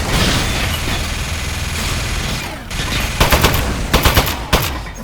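Gun shooting in Aperture Desk Job, a steady hissing stream of rapid fire giving way to sharp, loud bursts of shots in short clusters toward the end.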